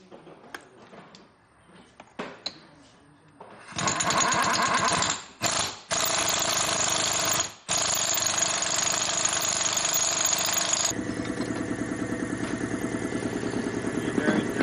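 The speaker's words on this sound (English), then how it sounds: "So the pinion bearing kind of has to get pressed now. Which is what that tool does." A bearing press tool pushes a pinion bearing on during a 5.13 gear swap on a Jeep JKU Rubicon. A loud, continuous, rapidly pulsing mechanical roar starts abruptly after quieter workshop sounds, breaks off briefly a few times, then settles at a lower level.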